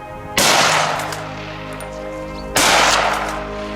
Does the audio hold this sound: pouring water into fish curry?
no